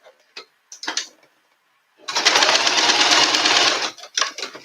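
Sewing machine running a second row of stitching, a couple of short clicks and ticks, then a steady close-up whirring run of about two seconds followed by more handling clicks.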